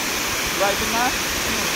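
A waterfall roars as a continuous broad wash of rushing water, loud and enveloping, with a voice briefly heard over it.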